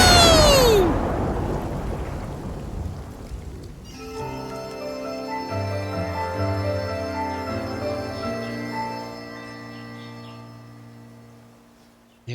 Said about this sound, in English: Lightning struck that dragon pillar too!